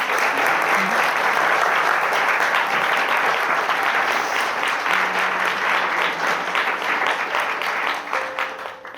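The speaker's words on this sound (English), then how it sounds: "Let's give them a round of applause." Wedding guests applaud during a ceremony at Clock Barn in Whitchurch, a dense, sustained round of clapping that stays loud for the whole stretch and eases only slightly at the very end.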